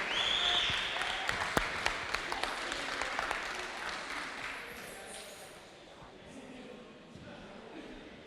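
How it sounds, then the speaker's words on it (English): A crowd at a competition finals applauds a competitor's clear run, loud clapping with a few sharp claps standing out, gradually thinning and fading toward the end. "Give the man a round of applause."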